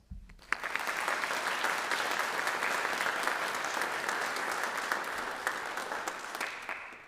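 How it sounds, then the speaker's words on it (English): An audience at a high school National Honor Society induction ceremony claps for the new members: sustained applause that starts abruptly, holds at an even level and fades slightly near the end. "please join me once again in applauding all of our new Honor Society members"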